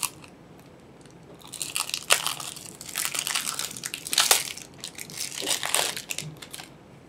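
Crinkling and crushing of plastic wrap being pulled off a newly opened card deck, close and fairly loud in bursts of crackling with brief pauses, no talk.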